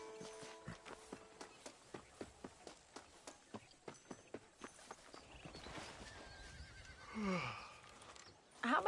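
A horse in Red Dead Redemption 2 clip-clops at a steady trot for several seconds, hooves fairly close and distinct, then lets out a loud whinny near the end before a sharp final sound.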